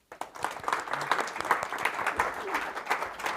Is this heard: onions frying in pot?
no